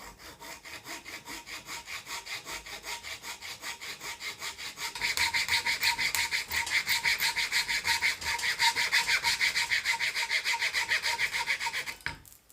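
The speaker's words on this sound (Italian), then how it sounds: "Metto il blocco di stecchini in un morsetto da banco e inizio a tagliare." A hand saw cuts through a block of wooden sticks clamped in a bench vise, giving a near, regular back-and-forth rasp that grows louder and brighter midway before stopping.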